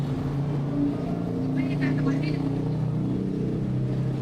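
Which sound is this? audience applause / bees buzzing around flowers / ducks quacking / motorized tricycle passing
motorized tricycle passing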